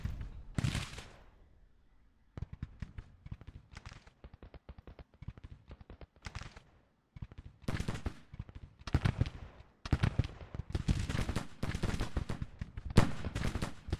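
Civil War musket volleys crackle across a battlefield in the Grand Tactician strategy game, with scattered distant pops and repeated dense bursts of rifle fire, moderately loud and rising toward the end.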